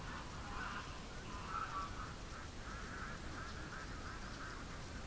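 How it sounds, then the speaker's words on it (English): A wood duck quacks softly in a steady run of calls from some distance, partly masked by a constant hiss of wind or water. "It's that little wood duck's back again."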